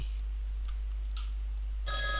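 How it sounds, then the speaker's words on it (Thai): A telephone rings in a horror RPG video game, starting abruptly near the end with a bright electronic trill that rises over a quiet hissing ambience. "โทรศัพท์ดัง"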